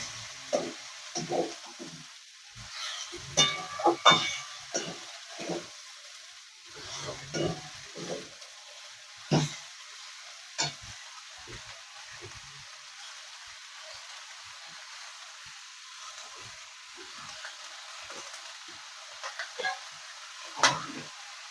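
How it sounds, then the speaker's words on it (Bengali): Washed, drained cabbage is stirred into a pan of spices with a fish head, giving soft sizzling under repeated scraping and clinking stirs, quiet and close. "বাঁধাকপিটা ধুয়ে রেখেছিলাম, সেটা দিয়ে দেবো।"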